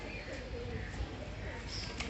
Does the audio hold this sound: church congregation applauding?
no